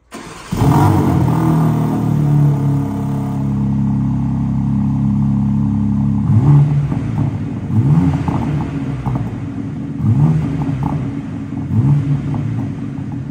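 A new car's engine starts with a sudden roar, then idles loudly with a deep rumble before several sharp revs blip up and fall back in a rough rhythm, close and alone.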